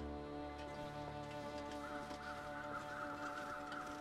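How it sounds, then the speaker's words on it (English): Crows cawing in the video game The Long Dark, a run of repeated harsh calls that sounds moderately distant over a steady ambient background, with no talking. "Did I hear crows? Yeah, crows."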